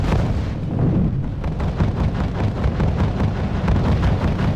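Ho-To rocket artillery fires repeatedly in the R.U.S.E. strategy game, a dense, rapid barrage of loud launches and booms in steady rhythm, with no voices.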